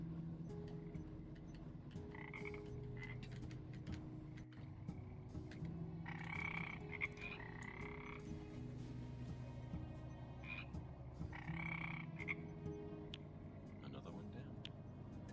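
Repeated frog croaks from the video game Teach a Man to Frog, sounding steadily over a low background hum with bursts of game sound effects.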